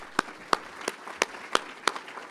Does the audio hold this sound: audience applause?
yes